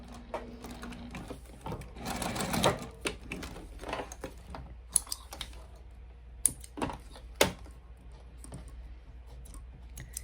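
A sewing machine runs a straight stitch down a leather wallet pocket in short bursts, with sharp clicks and mechanical rattles between quieter pauses, close up.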